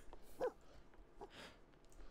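A dog in the video game The Sims 4 Seasons gives a couple of short, faint barks against quiet game background, one sharper yelp early and a softer one later.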